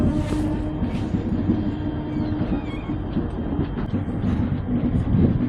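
Train pulling out of Vijayawada station, heard from inside a long-distance passenger coach: a loud, continuous low rumble with rhythmic clatter and rattling of the carriage, steady throughout with no talk.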